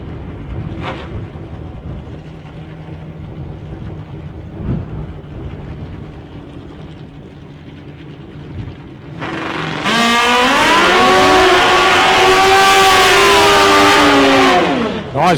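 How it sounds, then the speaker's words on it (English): Two drag racing bikes do burnouts on their back tyres. Engine noise rumbles low at first, then a sudden loud, sustained high-revving roar takes over for the last few seconds. "Nice burn on the back tyres for both bikes there"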